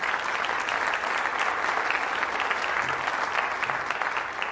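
An audience at a wind symphony concert breaks into steady, full applause, a dense wash of many hands clapping at constant loudness throughout, with no talking over it.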